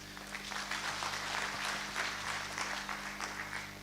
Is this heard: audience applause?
yes